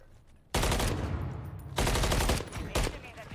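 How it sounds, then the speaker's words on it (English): Gunfire in the video game Call of Duty MW3, loud bursts of automatic fire in three sustained volleys separated by short quiet gaps. "Getting shot from the street."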